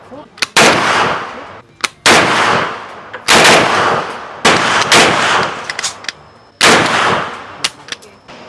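Real guns are fired at a shooting range in Vietnam: loud, close bursts of rapid shots come about every second or so, six or seven in all, each ringing with a sharp echoing tail.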